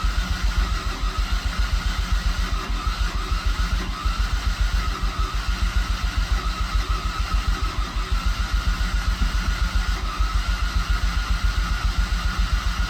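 An EcoBoost Ford Ranger engine after a cylinder head swap tries to start and run, giving a steady, rhythmic chugging pulse that repeats evenly and loudly throughout, with no talking.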